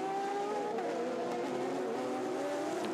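A Porsche race car heard onboard at Le Mans, with a steady high engine whine and layered tonal harmonics that rise slightly over a few seconds, under faint tire and road noise.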